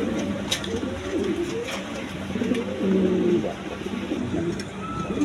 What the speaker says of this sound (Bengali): দেখেন কোয়ালিটি সম্পন্ন কবুতর, দেখার মতো কবুতর